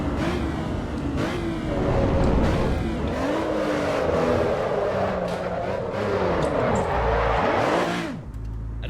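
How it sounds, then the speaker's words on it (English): A race car in the Assetto Corsa EVO racing game thrown into a handbrake turn at Tamburello, the engine roaring loud and steady, then dipping and revving in sweeping swells before cutting off abruptly near the end. "I'm gonna handbrake turn Tamburello."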